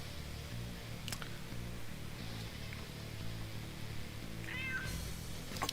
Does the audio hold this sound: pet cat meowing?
yes